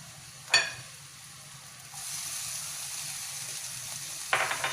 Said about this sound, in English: first you heat up the pan with oil and then you put in the garlic. Stir fry the garlic. Next, put in the chili.